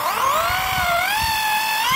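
Electric drill with a brad point wood bit boring into wood, a loud continuous whine whose pitch sags and rises slightly as the bit loads, with low rumbling underneath.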